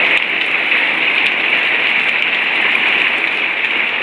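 Heavy rain pouring down outdoors at a home, a dense, steady hiss of drops hitting surfaces, loud and unbroken throughout with no talk.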